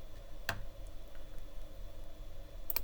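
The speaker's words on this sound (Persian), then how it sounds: "دوباره روش کلیک میکنم" Computer mouse clicks while working in MATLAB: two faint, sharp single clicks, one early and one at the very end, over a quiet steady room hum.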